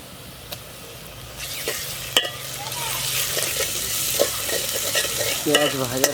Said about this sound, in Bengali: এখন এই যে আদা রসুন বাটাটা দিয়ে দেবো